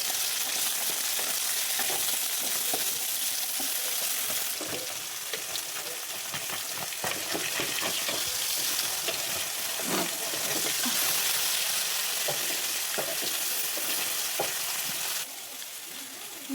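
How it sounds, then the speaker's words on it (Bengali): Thinly sliced potatoes and chopped onion fry in oil in a pan, giving a steady, close sizzle with scraping stir strokes throughout, no voices. "দিয়ে এটাকে একটু ভালো করে ভেজে নেবো"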